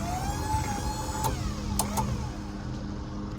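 On a 2014 Ford F450 4x4 mechanics service truck, the crane boom swings side to side with a steady hydraulic whine and motor hum. A few sharp clicks and knocks break in, and no one talks.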